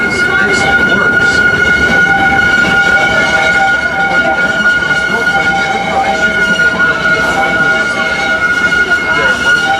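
A Six Flags railroad train hauled by an American Locomotive Company steam locomotive rumbles steadily and loudly, with sustained high tonal whistle-like lines running through the whole stretch.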